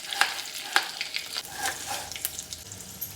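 Crushed garlic and curry leaves frying in a pan, a fairly quiet crackling sizzle with a couple of sharp pops early on and soft stirring, no speech.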